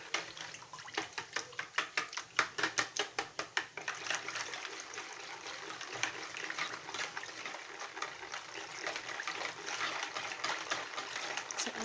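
Rapid whisk strokes beating coconut milk, vinegar, oil and eggs in a bowl for gluten-free pancake batter, a sharp rhythmic clatter at first, then blurring into a steady continuous swishing, close and fairly quiet.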